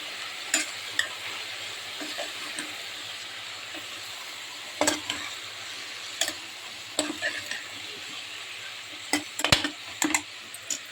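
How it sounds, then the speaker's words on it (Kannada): Turmeric, coriander powder and chilli powder stirred into sambar in a sizzling pot: a steady frying hiss with repeated scraping and tapping strokes of a spoon, close and fairly loud, no voices. "ಅದಕ್ಕೆ ನಾನು ಅರಿಶಿನ, ಧನಿಯಾ ಪುಡಿ, ಖಾರ ಪುಡಿ ಹಾಕಿ ಚೆನ್ನಾಗಿ ಮಿಕ್ಸ್ ಮಾಡ್ತಾಯಿದ್ದೀನಿ"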